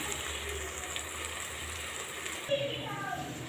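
Water poured into a pot of soaked rice for keema vegetable rice, a continuous rushing gush that shifts in tone partway through as the pot fills, with faint kitchen background.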